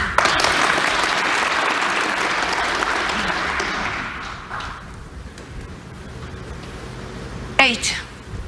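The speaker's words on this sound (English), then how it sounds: "Listen to the applause. They're willing him on to make some sort of recovery." Applause from the snooker crowd at the Northern Ireland Open in the Waterfront Hall, loud and dense at first, then thinning and fading over several seconds, with a sharp knock late on.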